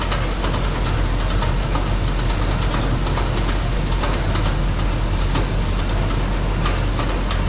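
A snow plow spreader spinner on a 2020 Chevy Silverado 6500 runs steadily with a loud, continuous mechanical churn and rumble that holds evenly throughout, with no voices.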